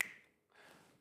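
A single crisp finger snap lands right at the start, close and dry, then fades into faint room hiss.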